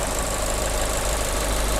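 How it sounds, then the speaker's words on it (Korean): A Fiat 500 Coupe 1.4 Lounge engine idles steadily, heard up close in the open engine bay as a loud, constant mechanical hum with an even, slightly knocking rhythm. "엔진 소리도 일정합니다"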